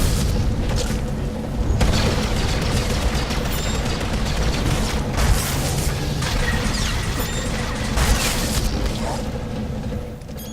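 Explosion of a research station in the video game Star Wars: The Old Republic, a sustained loud roaring blast with rumbling debris and crackling over the whole stretch.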